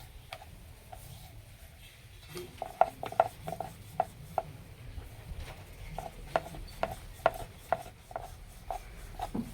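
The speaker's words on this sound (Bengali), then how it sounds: "যতটা সম্ভব হয় একটু পাতলা করে বেলে নেব।" Sweet lachha mithai dough rolled thin with a rolling pin on cornflour, a series of sharp wooden taps and knocks in an uneven rhythm over a low background hum, close and fairly clear.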